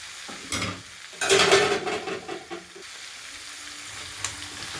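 Taro and shrimp curry being sautéed in a pan, with sizzling and scraping stirring strokes in uneven bursts, loudest near the middle, then a quieter simmer.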